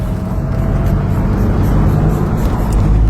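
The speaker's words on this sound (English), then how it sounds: "that's a Mustang" A Ford Mustang drives past on a city road at night, a steady low engine rumble and broadband road noise filling the moment, fairly close and continuous with no clear pass-by peak.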